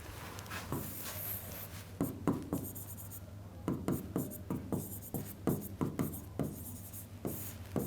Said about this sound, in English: I think I should write on next slide.